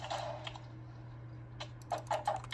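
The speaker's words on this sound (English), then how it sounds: "Now, I'm not really good at single clicking, as you can see." Mouse single-clicking during stun-slam mace practice in a game, a few quick, light clicks near the start and a tighter cluster of close clicks near the end, fairly faint over a steady low hum.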